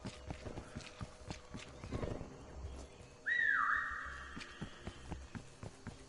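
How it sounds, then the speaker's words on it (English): A whistle in a PS5 video game: one loud, clear whistled note held for about a second, rising then falling slightly, over a background of game footsteps and clip-clop hoof sounds. "I heard a whistle"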